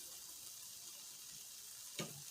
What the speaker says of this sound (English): Just let it simmer for a little bit.